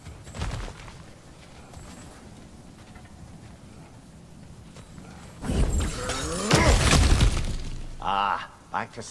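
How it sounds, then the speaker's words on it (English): Smashing through cracked ground in God of War Ragnarök: after a stretch of low ambience, loud crunching breaks and debris crashes come in bursts lasting a couple of seconds, followed by a brief vocal sound. "back to smashing through things for fun and profit"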